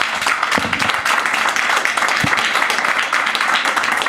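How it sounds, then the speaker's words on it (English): Audience applause for panel speakers at a Davos forum event, a dense, steady wash of clapping filling the room for the full length at a fairly loud level. "Yeah, a big round of applause to all our speakers."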